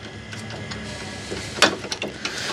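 A 10 mm socket wrench works loose the horn bracket on a Tata Nexon, giving a few quiet, sharp ratcheting clicks and small metallic taps close by, with no talk.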